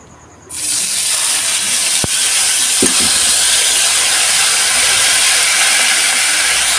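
Onion paste hits hot oil left from frying koi fish, bursting into a loud, steady sizzling hiss that starts abruptly and continues unbroken, with a faint clink of utensils.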